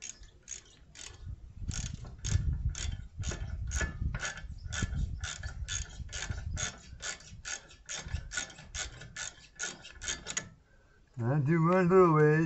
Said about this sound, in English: then you can screw the screws back in.